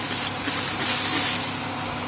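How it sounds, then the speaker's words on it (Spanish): Water is misted from a spray bottle over whole-grain bread dough with oats and seeds and into the oven to make steam, giving a steady, close airy hiss throughout. "Voy a rociar un poquito más toda la superficie y el horno con un poquito de agua para crear vapor."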